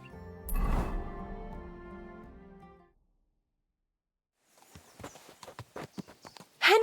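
Horse hooves clip-clopping at a walk in the video game Kingdom Come Deliverance 2, a series of irregular hoof strikes after a sustained musical tone fades into silence.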